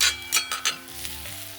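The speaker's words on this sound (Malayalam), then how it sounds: "കുഴയാതെ കരിഞ്ഞു പോകാതെ ഇളക്കി എടുക്കണം." Taro root thoran sizzles in a pan while a spoon stirs it. Several quick clinks and scrapes of the utensil sound over a low, steady frying hiss.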